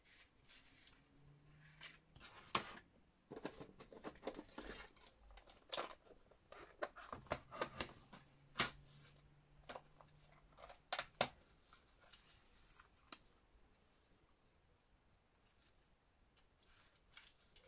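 Scissors snip through paper in a quiet room, a run of short crisp cuts and rustles that come in irregular bursts, with soft paper handling between them and no talk.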